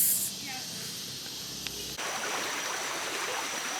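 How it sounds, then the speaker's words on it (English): Waterfall in Bali heard from the approach, a constant rushing hiss of falling water that grows noticeably louder and fuller partway through, with a voice faintly present. "now we just walk into the waterfall"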